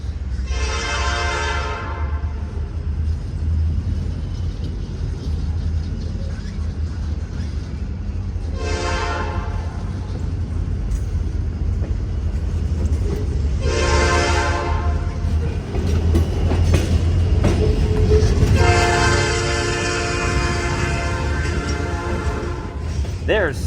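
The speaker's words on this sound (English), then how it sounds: "what's coming towards us. It's the Herzog multi-purpose machine." Herzog multi-purpose rail maintenance machine approaching with four long horn blasts spaced apart over a continuous rumble and clatter of wheels on track.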